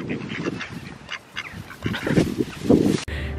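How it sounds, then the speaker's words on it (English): Several ducks quack in short bursts, some louder and nearer than others, over faint outdoor background noise in the Alton Towers gardens, with a few crows present. "So we've been joined by uh, a few crows and a few more ducks."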